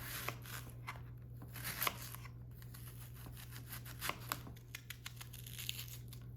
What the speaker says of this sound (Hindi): प्याज, इनको काट लेते हैं।